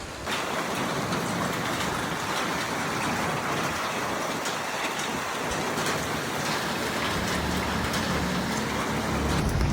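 A heavy hailstorm pours down on Kathmandu in the afternoon darkness, with hail and rain drumming steadily and loudly on nearby surfaces, a dense unbroken roar with no voices.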